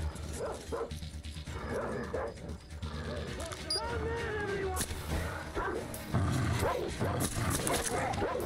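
Several dogs barking and yelping in the video game Metro Exodus, overlapping growls and yips in a chaotic pack attack layered with gunfire, game effects and voices.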